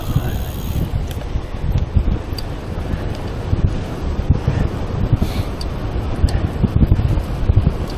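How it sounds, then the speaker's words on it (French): Steady headwind buffeting a microphone while cycling on a vintage Mercier road bike, a low rumbling roar that swells and gusts throughout, loud and close, with no voices. "il y a le vent de face là"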